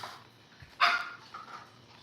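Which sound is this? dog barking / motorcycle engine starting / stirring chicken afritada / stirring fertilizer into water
dog barking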